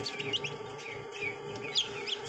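Newly hatched chicks of a native village chicken breed peep in busy, high-pitched chirps, with a few louder calls standing out over a steady low background hum.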